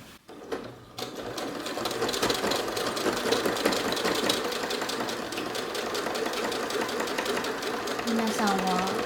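A sewing machine stitching the bottom of a fabric bag 5 mm from the edge, a steady, fast, close-up mechanical chatter running continuously after a brief start, with someone talking at the end.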